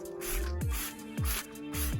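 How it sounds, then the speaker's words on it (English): Spray bottle misting wheel cleaner onto a car wheel, several quick trigger squirts in an uneven rhythm, close by. "Do one wheel at a time, spray this on."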